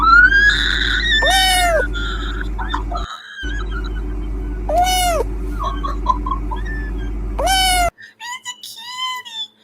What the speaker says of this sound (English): This is a really cute cat.